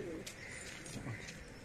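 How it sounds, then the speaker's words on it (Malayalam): Pigeons for sale give soft low cooing calls over a steady background hum, close by, with a voice speaking through much of the moment. "ഇതൊക്കെ നല്ല പ്രാവാണ്."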